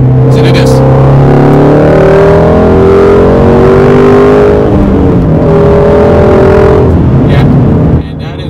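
A Shelby GT350 with its Voodoo V8 engine revs hard and close, the note rising and falling through several loud sweeps before cutting back near the end, with someone talking over it.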